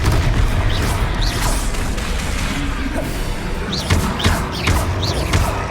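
Confringo blasting spells exploding in the video game Hogwarts Legacy, repeated booming impacts and whooshes amid dense combat noise, loud and close, with shouted spell voices mixed in.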